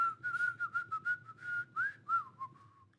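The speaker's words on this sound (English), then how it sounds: "I learned how to whistle at a very young age because of that song." A person whistles a tune, a clear, close melodic run of short chirpy notes ending in a few longer sliding tones, heard alone over a faint low background murmur.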